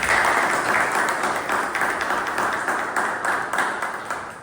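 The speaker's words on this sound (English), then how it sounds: "Let's have a big round of applause for that." A Toastmasters club meeting audience applauds steadily, a dense wash of many hands clapping at fairly even loudness, with no voices over it.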